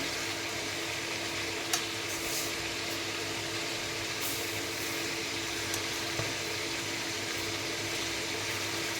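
Chicken pieces fry in an oily pan for chicken biryani, giving a constant close sizzle and crackle with a low steady hum and only a few small spatters and pops.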